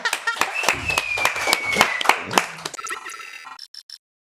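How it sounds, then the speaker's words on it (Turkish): Audience applause at a comedy rap show, a burst of clapping with whoops and cheers over about three seconds, then thinning out to a few scattered claps before going quiet. "Kocaman bir alkış."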